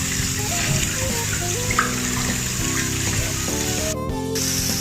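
Hot water running from a tap into a bath, a steady loud splashing stream with a constant hiss, close and continuous with a brief gurgle near the end.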